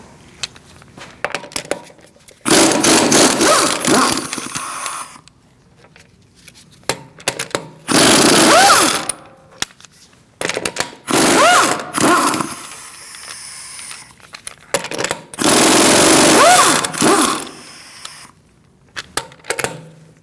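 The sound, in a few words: removing rear wheel with 17mm socket on Mercedes-Benz C300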